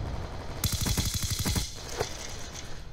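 Automatic weapon fire in the video game Black Ops 2, a rapid steady burst of about a second with evenly spaced shots, followed by a sharp single report and lingering game ambience.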